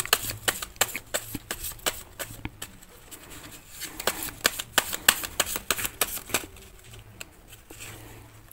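Intuition tarot cards are shuffled by hand in rapid, crisp clacking bursts with short pauses, close and clear, while pigeons coo softly in the background.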